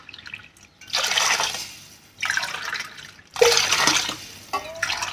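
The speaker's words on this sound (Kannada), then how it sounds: "ನೀರು ಸೇರಿಸ್ತಾ ಇದ್ದೀನಿ." Water poured from a glass into a cooker pot of roasted broken wheat for pongal, in four separate splashing pours with short pauses between them, close and fairly loud.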